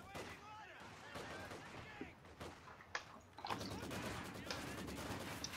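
Rapid bursts of MG42 machine-gun fire crackle from a house position during a Company of Heroes 2 battle, with sharp shots and overlapping volleys that stay fairly faint and distant.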